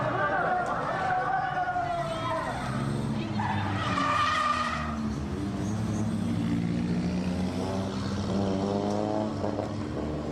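Toyota Levin drift cars battle at Nakayama, their tires squealing and skidding over steady engine roar, while someone talks over the action.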